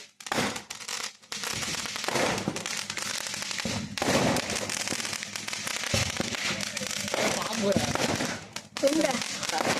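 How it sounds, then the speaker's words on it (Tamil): Firecrackers go off at a fireworks site, heard from a kept distance as a dense, continuous crackling barrage of rapid pops and bangs with brief gaps, loud throughout, with voices occasionally under it. "வெடி போடுற இடத்தோட இவ்வளவு டிஸ்டன்ஸ் மெயின்டைன் பண்ணி இருந்து எடுத்துட்டு இருக்கோம்."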